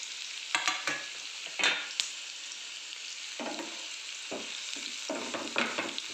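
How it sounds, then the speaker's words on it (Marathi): Onion sautés in a pan over low heat until reddish, a soft, steady sizzle punctuated by several bursts of stirring and spoon scrapes at irregular intervals. "आता कांदा लगेच आपण टाकून घेऊया, लालसर त्याला परतून घेऊया।"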